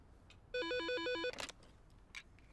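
A phone ringtone trills in a fast, regular electronic pattern for under a second, clear and close in a quiet room, followed by brief faint rustles.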